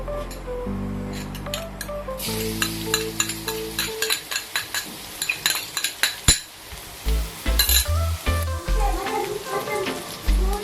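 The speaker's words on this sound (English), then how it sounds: "So first of all, stir fry the garlic." Garlic stir-fried in a home kitchen pan for a durian flower (bunga durian) dish, with steady sizzling broken by repeated metallic scrapes and clinks of a utensil against the pan, close and fairly loud.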